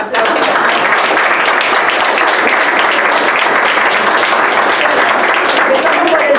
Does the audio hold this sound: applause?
yes